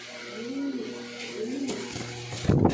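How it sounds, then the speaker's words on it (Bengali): A pair of big pigeons, one male and one white female, coo softly in low repeated rising phrases, then a burst of rustling or flapping near the end, with a voice talking nearby. "এখানে এক পেয়ার কবুতর দিলাম"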